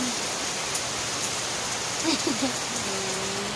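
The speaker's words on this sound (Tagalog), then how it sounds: "Ayan, naulan ngayon dito sa amin." Steady rain falls outdoors in a residential neighborhood as a continuous hiss throughout, with a few faint voices and brief tonal sounds in the background.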